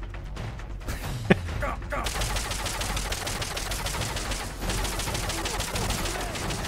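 Rapid gunfire from Metal Gear Solid: Peace Walker rattles on continuously in a fast steady stream, with a sharp impact near the start and game effects mixed in.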